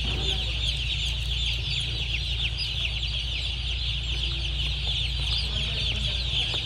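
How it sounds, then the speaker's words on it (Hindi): A newly hatched Ross breed broiler chick peeps close by, mixed with constant chick cheeping and a low hum of machinery in a control shed. "ये तकरीबन 42 ग्राम का चूजा है"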